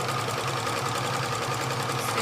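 A sewing machine stitching and back stitching runs in a steady, close mechanical whir with a fast rhythmic needle chatter. It keeps going without a pause and nobody speaks.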